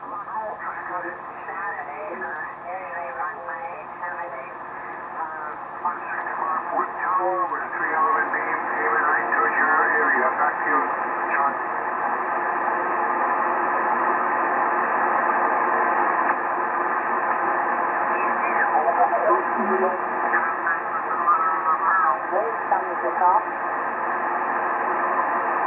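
A radio receiver picks up a signal while sweeping the band, giving a narrowband, tinny, warbling transmission with drifting tones and faint distorted voices over a continuous hiss that grows slightly louder as the tuning settles.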